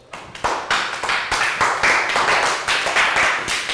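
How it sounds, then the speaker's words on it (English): A primary-school class claps for a pupil during an English lesson, a sharp rhythmic series of hand claps in quick succession, close and fairly loud, building into a brisk round. "High five and round of applause"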